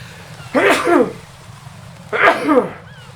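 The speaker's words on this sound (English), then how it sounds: "I gotta sneeze too." Two sharp, close sneezes in a row, each a sudden burst of breath about a second and a half apart, over a low background hum.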